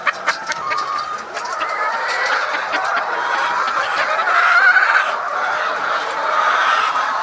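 Hens on an egg-laying chicken farm cluck and chatter in an overlapping flock chorus, with a few louder calls rising above the steady murmur.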